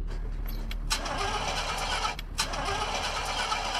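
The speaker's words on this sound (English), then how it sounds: "It starts and sounds like a beast." A Chevrolet Caprice engine cranks and fires up after restoration work, with a couple of sharp bursts before settling into a loud, steady rough running roar close by.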